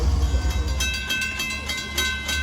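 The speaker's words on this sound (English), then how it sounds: "that last Oyster Bay train is actually 564 from New York to Oyster Bay" An LIRR commuter train runs through Mineola station during the evening rush, a loud close rumble of rolling cars with rhythmic wheel clatter and a steady high tone, heard alone without speech.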